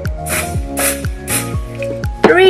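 Spray foundation pumped onto a makeup brush in three quick close hissing bursts, evenly spaced, followed by a brief squeaky handling sound at the end.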